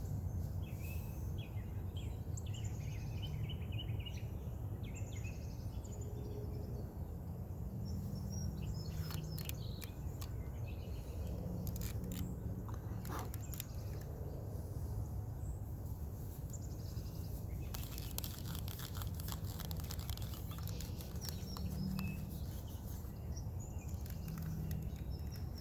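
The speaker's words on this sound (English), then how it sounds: "Birds sound great this morning." Birds chirp and sing faintly in the distance over a steady outdoor background hum, scattered calls coming and going.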